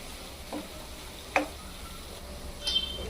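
Quiet, steady sizzle of fresh green chickpeas frying in hot oil, with a few faint clicks and scrapes of stirring, no voices.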